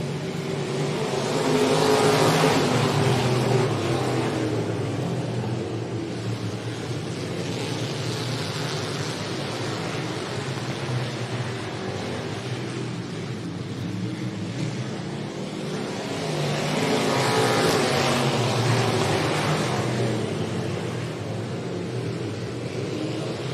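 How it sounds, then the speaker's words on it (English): Race cars circle the dirt oval at Jacksonville Speedway, engine roar rising and fading twice as the pack sweeps past, loud and steady throughout, with no voices. "White flag comes out, 1 lap to go for the 89 of Mike Jackson as he leads the fields around turns number 1 and 2"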